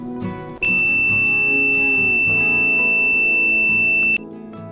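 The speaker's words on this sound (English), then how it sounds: "Please listen to the continuous beep sound and please look at the multimeter screen" A multimeter on continuity test gives a loud, steady high-pitched beep lasting about three and a half seconds before cutting off, over a low background hum while a time delay relay circuit is checked.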